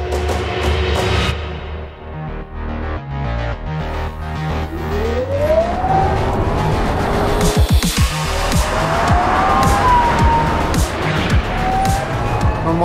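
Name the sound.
race car driving on track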